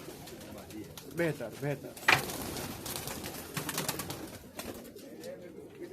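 Pakistani high flyer pigeons coo softly in a loft in Kuwait, with low, rounded calls repeating near the start while people talk and move about over a busy background.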